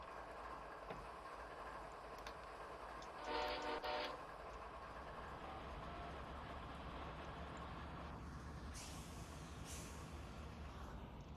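The Carl Sandburg passenger train rolls past near a rail yard on Western Avenue on a Friday evening, a faint, distant steady rumble with a short horn blast partway through.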